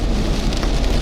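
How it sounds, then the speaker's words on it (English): Heavy rain during Hurricane Beryl at Matagorda Beach, Texas, a loud dense hiss of downpour on surfaces, steady and close with no voices. "some heavy rain already."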